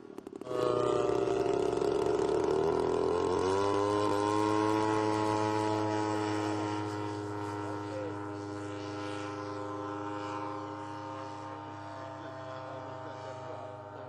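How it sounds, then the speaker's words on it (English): A large radio-controlled model airplane, a 22-pound model powered by a Fuji 43 gas engine, flies past with a steady buzzing, harmonic engine drone that rises in pitch, then gradually eases as it moves away. "it's got a Fuji 43 gas engine in it with breed tracks"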